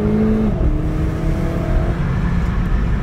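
A car engine pulls steadily through smooth gear changes with no jolts, its tone dropping at each shift and climbing again, loud and close throughout with no talking.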